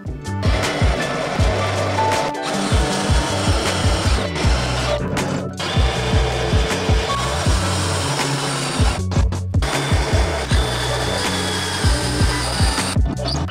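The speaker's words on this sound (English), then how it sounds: "Got my holes drilled now." A power drill bores 7/16-inch holes through metal for a Kubota BX tractor bucket, loud and close, with a steady whine and rhythmic chattering pulses broken by a few short pauses.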